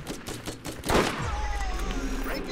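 Gunfire in the Borderlands video game: a quick burst of shots, then one louder blast with a rumbling tail, over steady game background hum.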